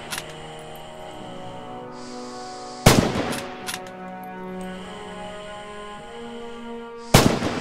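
Rifle shots fired at downrange targets in the Rising Storm game, two loud sharp cracks several seconds apart, each ringing out over a steady background hum.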